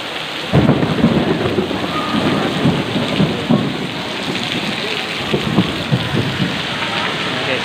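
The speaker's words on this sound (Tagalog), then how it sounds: "ang lakas po ng ulan talaga" Heavy rain pours loudly and continuously outside a Padre Pio church, with rumbling thunderstorm bursts and people talking beneath the downpour.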